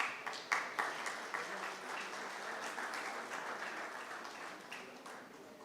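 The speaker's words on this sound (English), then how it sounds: "A big round of applause for Ahmed Rashid." Applause from a literary festival audience welcoming a guest to the stage: a few loud early claps swell into steady, even clapping that holds at moderate level and tapers slightly at the end.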